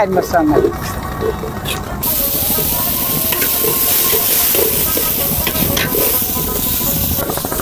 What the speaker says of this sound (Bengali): ওনারা প্রথমে মাছ ভাজি করে নিচ্ছেন হালকা তারপরে এই যে সবজি ভালো করে ভেজে নিচ্ছেন